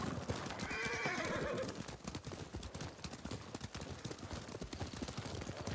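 Horses in the video game Ghost of Tsushima trot along with steady, close clip-clop hoofbeats. A clear neigh rings out early, then the hooves carry on alone at a brisk rhythm.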